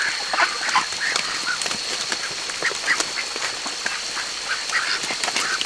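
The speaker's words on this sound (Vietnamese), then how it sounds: "Vịt thì béo lắm." Plump farm ducks quack in a busy chorus, short overlapping nasal calls repeating steadily over a constant hiss of background noise, fairly close and loud with no talking.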